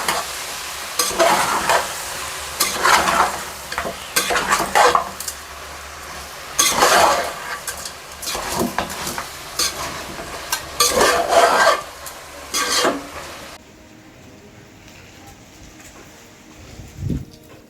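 Mutton curry stirred in a pan, with repeated scraping strokes of a spoon against metal over a soft sizzle, close and fairly loud, ending in a quieter stretch with one low knock.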